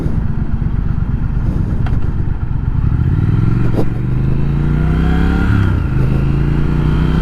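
A 2020 Triumph Speed Twin motorcycle is ridden close by, its engine chugging and then revving up through rising pitch, with a brief dip and renewed climb as it accelerates, loud and continuous.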